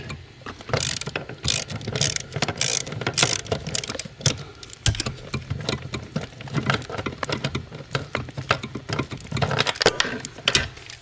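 A ratchet turns a deep socket on a wobble joint while loosening a bolt on a Mercedes 300D brake master cylinder, giving a close, loud, steady run of rapid clicking pawl strokes with brief pauses throughout.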